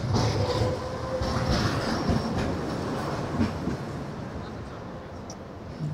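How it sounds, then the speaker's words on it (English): A tram arriving in Lviv, rumbling steadily on the rails with faint clacking and a brief high wheel squeal, a constant mid-distance roar that slowly fades slightly. "This is the tram I'm looking for."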